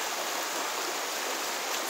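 A brook in the North Maine Woods flows over rocks and splits around a small island, giving a steady, close, broadband rush of water with no pauses and no voices.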